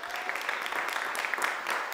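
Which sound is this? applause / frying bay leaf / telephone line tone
applause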